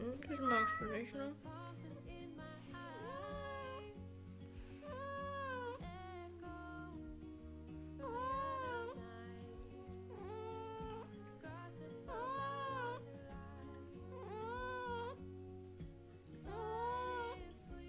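A cat meows repeatedly, a run of rising and falling, drawn-out meows spaced a second or two apart, close and clear, with a person's voice briefly at the start.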